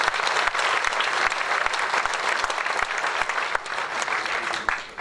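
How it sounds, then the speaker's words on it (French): Applause from an audience at a political campaign rally in Morcenx, France, a dense, sustained burst of clapping that fills the room and tapers slightly at the end. "vous pouvez applaudir"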